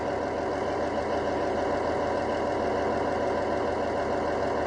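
A train engine idling in Train Sim World 3 on the Niddertalbahn line, a loud, steady diesel drone with a faint knocking pulse and a constant hum.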